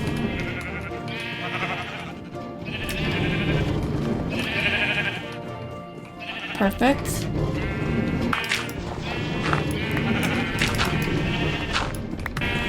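Sheep in Minecraft bleat repeatedly in short wavering cries, several in sequence at moderate volume, alongside someone talking and brief game thuds.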